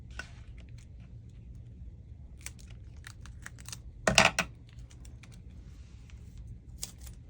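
Paper being cut for a 12x12 paper project folio and ephemera holder: light, close ticking scrapes, then a louder, brief rasping slice of the blade through the sheet near the middle, with no talk.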